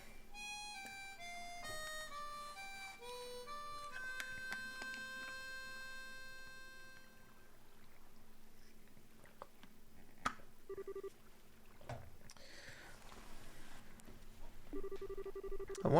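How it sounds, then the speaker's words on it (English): A gentle harmonica tune plays in the video game Trails in the Sky, a quiet melody of stepping sustained notes that fades after several seconds, followed by soft scattered game sounds. "when I hear the sound of your harmonica in the evening light"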